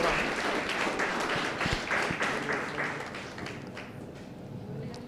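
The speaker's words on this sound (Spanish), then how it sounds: "Un aplauso para este grupo." Applause from a church congregation at a Sunday service, a dense steady wash of clapping that holds fairly loud and then eases slightly, with some voices mixed in.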